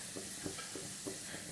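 Sesame oil mixed with rice water bubbles gently in a new clay pot being seasoned, a soft, steady sizzle with faint popping bursts at a low level.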